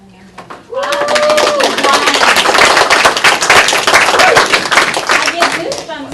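A meeting audience bursts into loud, close clapping after a short voice at the start, the dense crackle of many hands holding steady before tapering off near the end.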